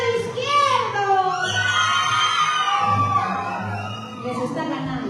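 The left side of a concert audience at a live show shouts and cheers loudly, a mass of voices including children whooping together in a sustained roar that swells and dips.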